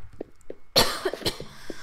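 Several coughs burst out in quick succession in a Minecraft Christmas custom map, loud and close after a quiet start, with a few softer coughs trailing off.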